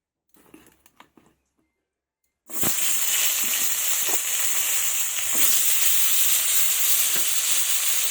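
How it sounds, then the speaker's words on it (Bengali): Potatoes and spinach stalks drop into hot oil and erupt into a loud, steady sizzle that holds with crackling pops, after a few soft clatters and a brief pause. "আলু আর পালংয়ের ডাঁটগুলো আমি ভেজে নেব"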